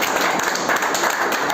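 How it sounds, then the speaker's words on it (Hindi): Students at a class 10 school quiz competition clap together after a correct answer, a loud, dense burst of applause lasting the whole moment. "10 तालियां।"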